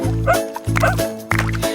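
Three short, evenly spaced yips from a cartoon puppy in a children's song, bright and close, each bark with a whimpering tail.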